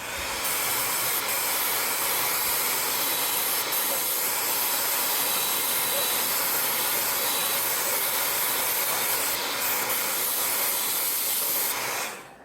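A hair dryer blows continuously at close range, drying transparent fluorescent yellow paint on a dark surface, giving a loud unbroken airy whoosh that cuts off at the very end.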